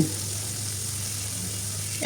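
Onions and tomato fry in a pan with a steady, even sizzle and a low hum beneath, with no other sounds.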